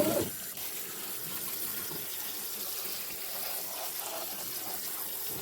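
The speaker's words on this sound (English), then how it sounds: "I'm going to wash them up in this colander and get the pot and get the beans going." Black-eyed peas are rinsed in a colander under a running kitchen tap, giving a steady, close hiss and splash of water that continues throughout.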